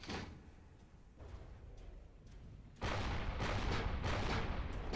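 Heavy gun firing in From The Depths with a Simple Weapons Plus mod: a quiet rumbling stretch, then a loud broadband blast at about 2.8 seconds that sustains as a dense roar with a few pulsing bursts to the end.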